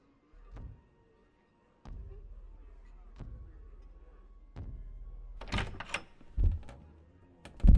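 Four heavy knocks on a large wooden door, evenly spaced with long pauses, then some shuffling and a couple of louder thumps toward the end, close and dry in a quiet room.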